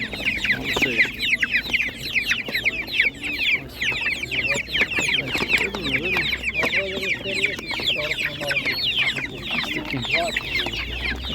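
Many Spanish naked-neck chickens cluck and squawk continuously at a crowded animal market, with a steady chorus of bird calls and some background activity.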